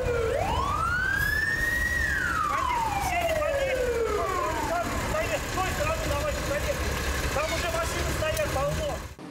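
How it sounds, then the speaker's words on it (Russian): Fire engine sirens wail past on the way to a toy factory fire in a city street, a loud rising and falling tone that sweeps up then drops, over traffic rumble. "сразу несколько пожарных машин спешили по адресу"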